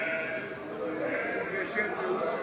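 Sheep and goats bleat in a busy, crowded livestock market in Çubuk, Turkey, overlapping with steady talk from people nearby.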